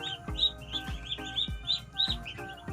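Several small chicks peep in quick, high, repeated chirps near a hen at a backyard feeder, with soft low thumps between the calls.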